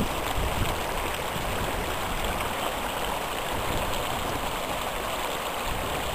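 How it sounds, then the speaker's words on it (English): Hot spring water running down from the mountain into a rock pool beside the Owyhee River; a steady, continuous rushing and babbling flow, close and even throughout with no voices. "comes flowing out of the ground down the mountain here"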